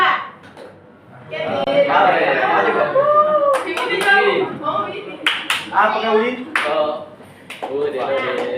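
Schoolchildren in a classroom doing a counting clap game, sharp bursts of group claps coming in short rhythmic groups between a teacher's spoken cues and children's chatter.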